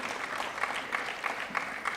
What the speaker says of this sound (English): May I request the audience to join me in extending a warm round of applause